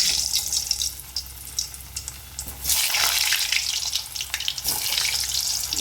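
Potato pieces frying in hot mustard oil in a kadai over low flame, a steady broadband sizzle that swells louder partway through and continues without talk.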